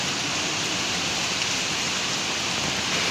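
Steady, dense typhoon rain pours down with a constant roaring hiss, gusting wind blended into the wash of noise, continuous throughout.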